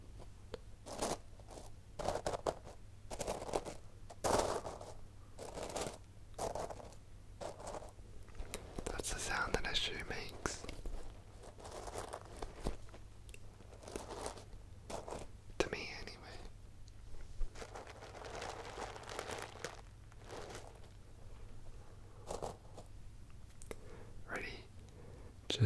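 Milk slime squished and handled up close, giving soft repeated crunching, clicking and squelching pops in a quiet setting, with whispering running throughout.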